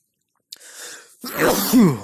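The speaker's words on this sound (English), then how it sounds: "You know the sneezes that come after the other sneeze?" A single close sneeze erupts after a sharp intake of breath, ending in a rising voiced tail.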